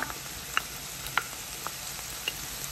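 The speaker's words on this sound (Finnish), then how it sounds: "Sitten laitetaan tähän keskelle pannua seuraavaksi tää 2 ruokalusikallista voita" Two tablespoons of butter melt in a hot frying pan beside onions, giving a soft, steady sizzle with a few sharp pops and ticks scattered through it, close and moderately quiet.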